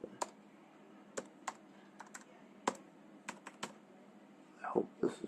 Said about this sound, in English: I'm going to go ahead and put my password in for my router